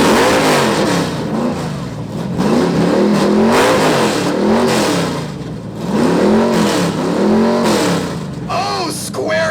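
A muscle car nicknamed the Beast revs its loud exhaust in a series of rising and falling bursts at an outdoor exhaust competition, with a crowd and voices mixed in around it.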